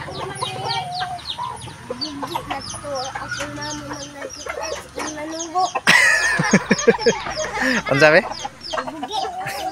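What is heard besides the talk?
chickens clucking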